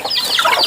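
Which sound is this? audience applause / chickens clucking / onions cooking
chickens clucking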